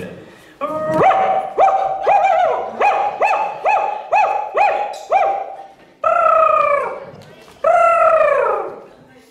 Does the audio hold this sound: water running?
no